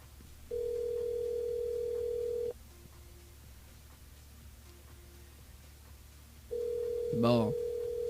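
Telephone ringing on a radio morning show's call-in line, two long steady ring tones separated by a pause, loud and close, with a short burst of voice at the end.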